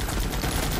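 Units firing guns in a video game: a brief, dense burst of rapid machine-gun fire, steady and moderately loud, with no voice over it.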